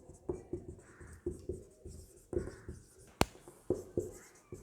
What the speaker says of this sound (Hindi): हम लोग लिख सकते हैं